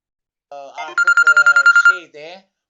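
A telephone rings during a live Turkish broadcast, a brief trilling electronic burst of rapid pulses, loud and close, bracketed by short tones.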